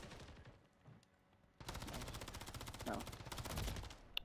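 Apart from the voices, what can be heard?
gunfire in the video game Call of Duty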